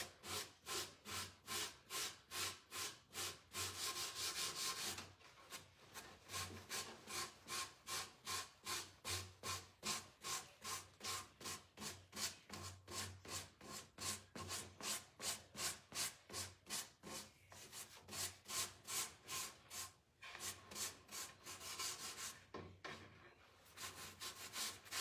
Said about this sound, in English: I'm going to sand the edges again.